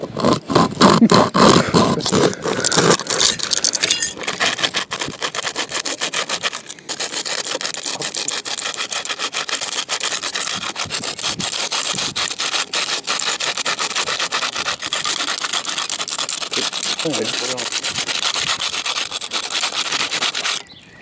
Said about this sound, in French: littéralement scié le verre avec ma scie diamantée